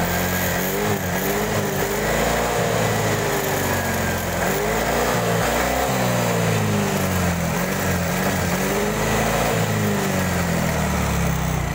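A Yamaha Mio J scooter with a new spark plug runs steadily close up, its small engine buzzing continuously with slight wavering revs and no talk over it.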